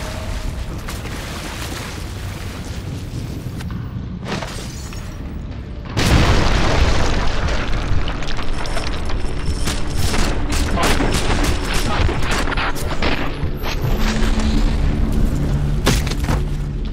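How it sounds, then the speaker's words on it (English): Ship bombardment in Modern Warfare 2 on the Gulag level, a dense rumble of gunfire that bursts into a heavy explosion and continuous loud blasts and booms. "They started the bombardment early."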